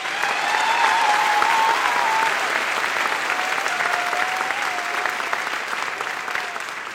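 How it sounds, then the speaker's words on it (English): Sustained audience applause for a graduating class of 2024 at a high school graduation ceremony, thick clapping from a large crowd that holds strong and slowly tapers, with a few faint voices and whoops mixed in. "can we just give them a round of applause?"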